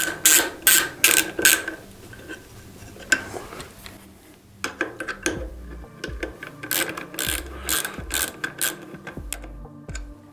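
A ratchet tightening the bolts of a tail tidy on a 2024 CFMOTO 450MT motorcycle gives off quick bursts of sharp, close clicking, followed by slower clicks with metallic knocks.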